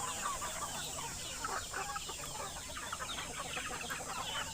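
Chickens cluck steadily in a newly built coop on a home farm, a dense overlapping chorus of many birds close by, continuous throughout with no talking.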